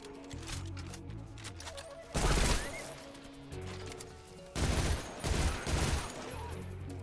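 Machine gun fire in the stealth game Metal Gear Solid 3: Snake Eater, loud bursts of automatic shooting coming in two or three stretches over a background of game music and ambience.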